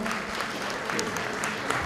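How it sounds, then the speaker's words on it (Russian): Audience applause at a boxing show ringside as a fighter from Samara is welcomed into the ring: steady, dense clapping from a crowd, fairly loud and continuous throughout. "Виктор Петроченко, давайте аплодисментами поприветствуем."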